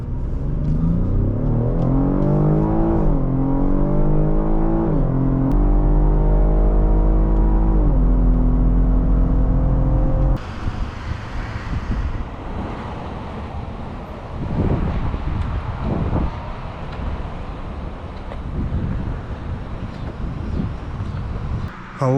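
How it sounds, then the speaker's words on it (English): A 2022 Cadillac XT5 with the 3.6 engine and AWD drives along, with a steady low engine rumble that climbs in pitch through several upshifts, then turns into rougher road and wind noise. "Today we are driving a 2022 Cadillac XT5 on our channel."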